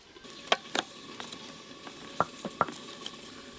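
Water hitting a hot cooking pan in a village kitchen, giving a steady soft sizzle with a few scattered clicks and taps, close and moderately quiet, with no voices.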